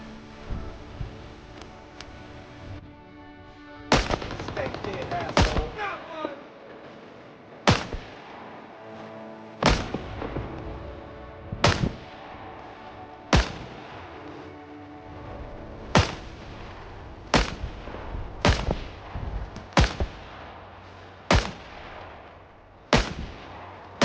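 Gunfire in the shooter game Rising Storm 2: Vietnam, about a dozen loud single shots spaced a second or two apart, each with a sharp crack and short echoing tail, no talking.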